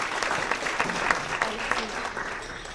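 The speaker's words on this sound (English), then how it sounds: "So round of applause for all of you athletes." A crowd applauds 2024 Wareham High School Athletic Hall of Fame inductees at a ceremony, dense sustained clapping from many hands filling the room at a fairly loud level before easing slightly at the end.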